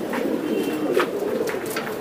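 Racing pigeons, Euro Diamond line, coo in low repeated bursts close by against a steady murmur of other birds; no voices intrude.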